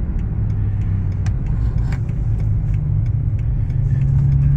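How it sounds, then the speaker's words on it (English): A BMW M6 with a 10-cylinder engine drives in traffic, its steady low rumble droning close and continuous under faint cabin ticks. "You can hear that 10-cylinder roaring."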